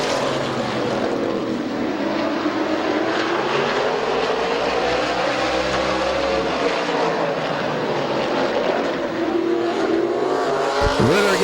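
Race cars at Midvale Speedway roar side by side off turn four, a steady, loud engine drone with shifting pitch sweeps across the whole stretch and a sharp pass close by at the end.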